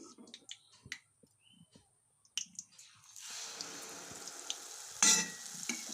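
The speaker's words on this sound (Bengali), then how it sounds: "তেলটা গরম হয়ে গেছে, এখন ব্যাটারটা একে একে দিব আর মালপোয়াগুলো তৈরি করব" Jaggery malpua batter dropped into hot oil, starting quiet with scattered clicks and then swelling into a soft continuous sizzle with a sharper spatter near the end, heard close and without speech.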